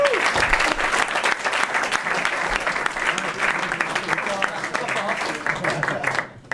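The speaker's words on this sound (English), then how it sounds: "Please, a round of applause for Simon." An audience applauds at a small live concert in Belgium, dense sustained clapping close and loud from the start, fading away near the end.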